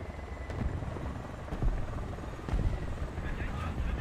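A helicopter in the War Thunder video game churns with a steady rotor drone and periodic heavy thumps, loud and close, while a voice talks over it.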